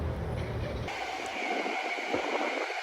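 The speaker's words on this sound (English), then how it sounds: "A train announces her invasion." A train rumbles past at a steady, fairly loud level, with a low roar early on and a broad rushing hiss continuing throughout.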